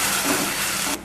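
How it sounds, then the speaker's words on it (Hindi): Ginger-garlic paste fries with browned onions in a pan, making a dense, even sizzle and hiss that holds steady for a second before stopping abruptly. "अब मैं इसमें अदरक लहसुन का पेस्ट डाल रही हूँ।"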